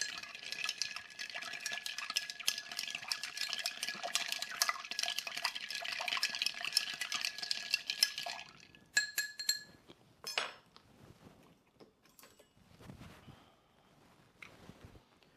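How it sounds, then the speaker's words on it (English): A banana cocktail being stirred over ice in a mixing glass, giving a steady, rapid clinking swirl for several seconds that then breaks into a few scattered glassy taps and softer handling sounds, close, with no talking. "Give this a stir."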